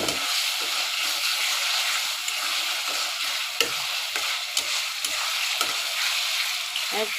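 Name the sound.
minced meat frying in pan with soy sauce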